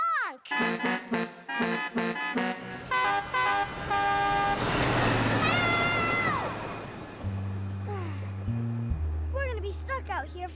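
Cartoon trains from Chuggington honk their horns in repeated bright toots, several in rapid rhythmic succession, followed by lower, longer horn blasts, with voices talking between them.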